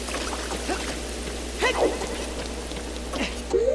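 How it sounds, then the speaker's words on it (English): Flowing water in Legend of Zelda: Ocarina of Time rushes as a steady broadband wash, with a few brief tonal game sound effects and a low steady drone layered over it. "the flowing water"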